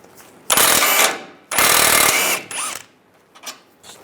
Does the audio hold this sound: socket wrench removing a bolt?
yes